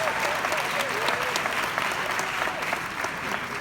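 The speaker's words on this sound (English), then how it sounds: "Let's clap our hands for Professor Nana." A crowd claps for a professor at a public gathering, a dense, even wash of applause lasting throughout, with a voice faintly audible beneath it.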